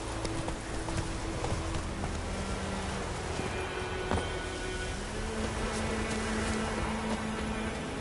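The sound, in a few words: horse hooves clip-clopping as Geralt rides, from video game The Witcher 3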